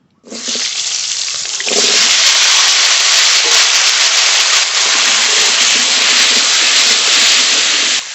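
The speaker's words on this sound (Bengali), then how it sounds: "তেলের ভিতরে আরেকটু তেল দেবো আজকে ধুয়ে রাখা আলু ভেজে নেব" Washed potatoes are dropped into hot oil, setting off a loud, steady sizzling hiss that starts abruptly, swells further after a moment and continues without a break.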